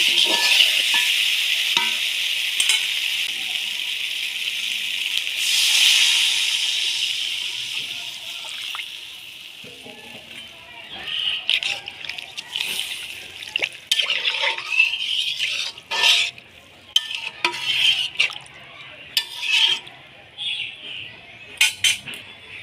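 Water is poured into frying fish and cauliflower curry, a steady loud hiss and sizzle for several seconds, followed by scattered clinks and scrapes of a utensil against the pan.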